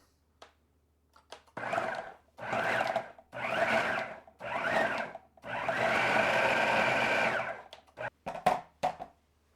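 A food processor pulses chopped fish for Finnish fish balls (kalapullat): four short motor bursts, then one long whirring run, loud and close, with a few faint clicks around them.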